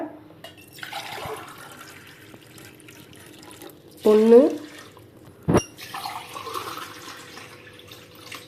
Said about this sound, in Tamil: மூணே முக்கால் அளவுக்கு தண்ணி சேர்த்துக்கலாம்